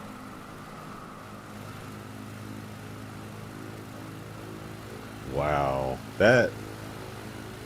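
A propeller plane's engine drones low and steady during an eSTOL takeoff in Microsoft Flight Simulator, with someone speaking briefly over it near the end.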